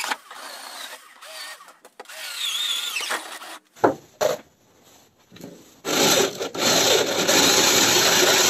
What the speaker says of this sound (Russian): Дальше будем пробовать металл сверлить 2-миллиметровый.